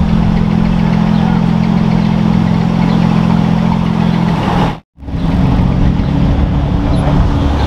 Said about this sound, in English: first Artura cold start